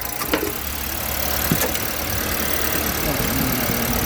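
A Lexus car engine idles with a steady, close rumble and hiss that runs throughout, with brief clicks and faint talk in the background.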